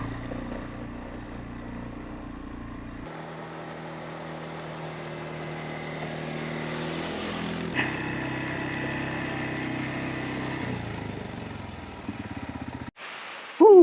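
CFMoto C-Force 600 ATV ridden on a wet trail, its engine droning steadily at rising and shifting pitch for most of the stretch, ending in a brief noisy burst.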